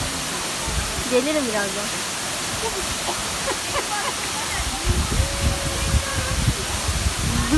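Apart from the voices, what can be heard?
waterfall water flowing, Sudüşen waterfall, Yalova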